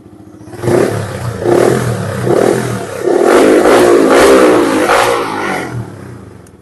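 A Yamaha R15 motorcycle engine revs in several hard bursts, rising and falling, then one long sustained rev before settling back to idle, loud and close.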